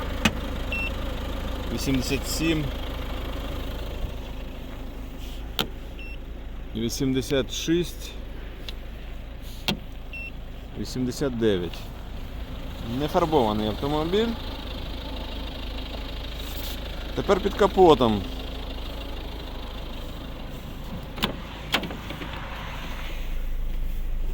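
A 2011 Volvo S40 with a 1.6 D2 diesel engine idles in a low, steady rumble beneath someone talking throughout.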